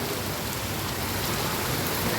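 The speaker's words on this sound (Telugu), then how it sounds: "ఎంత భయంకరంగా వర్షాలు వస్తున్నాయండి హైదరాబాద్లో ఉన్న వాళ్ళకి తెలుసు అనుకుంటా ఈ వర్షాల గురించి బీభత్సమైన వర్షాలు" Heavy rain pours down in Hyderabad, a thick unbroken roar of water that stays loud and constant throughout, with no talking.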